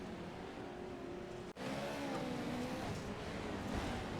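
Off-road truck engines from the Lucas Oil Pro 4 class roar steadily in the iRacing video game at Wild West Motorsports Park, a loud continuous revving drone with a brief cut near the middle, no talk.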